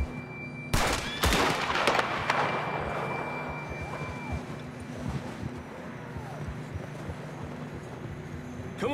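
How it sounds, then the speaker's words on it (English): Gunfire in Red Dead Redemption 2 on a cliffside horse trail: a sharp cluster of loud, close shots near the start, then a windy outdoor bed with faint crackles. "About scared my horse right off the cliff with that gunshot."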